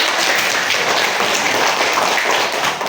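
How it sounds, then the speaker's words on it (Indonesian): Classroom of students clapping for a group's performance, a dense, steady burst of many hands close by, loud and continuous with hardly any talk. "Tepuk tangan untuk semuanya."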